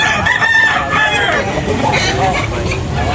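Chickens cluck and a rooster crows amid a busy, noisy farmyard with people talking nearby.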